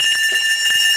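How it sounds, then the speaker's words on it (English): Fire alarm sounding loud and continuous at a sports live broadcast, steady high-pitched electronic tones ringing throughout with no talking. "That's the fire alarm, baby."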